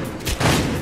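Dense gunfire roars in the video game Battlefield Hardline, a continuous loud burst of overlapping shots and booms filling the whole short moment, no speech over it.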